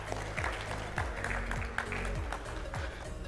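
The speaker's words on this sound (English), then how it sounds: "can you please give my panel a round of applause?" Audience applause for a panel at a colloquium and exhibition, a moderate, steady patter of clapping over a low rhythmic background, with distinct individual claps popping through at intervals.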